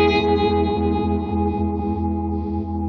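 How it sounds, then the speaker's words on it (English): Electric guitar played through the Univibe effect of a VOX StompLab modelling processor, with sustained chords that swirl and pulse steadily throughout at a loud, close level, and no talking. "So this is UV, which stands for Univibe,"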